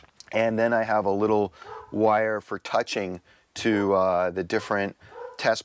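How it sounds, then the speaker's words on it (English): Someone talks steadily while a dog barks and whimpers intermittently in the background. "Sorry for the barking dog in the background."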